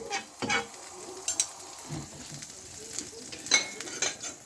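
Butter sizzling in a frying pan while a tortilla sandwich cooks, a soft steady crackle broken by a few louder clinks and scrapes of a utensil against the pan.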